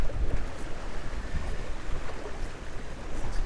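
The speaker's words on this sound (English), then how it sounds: "This is just treacherous, wild wind." Strong gusting wind roaring over open water during fall fishing, with low rumbling buffeting against the microphone and a constant broadband rush.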